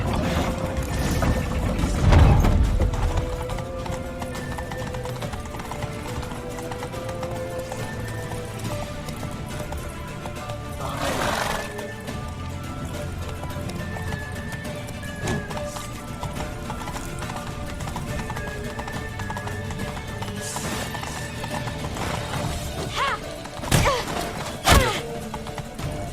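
Hooves of a galloping horse in The Witcher 3 video game pound in a steady, continuous clip-clop rhythm for the full stretch, close and fairly loud over a busy ambient game background.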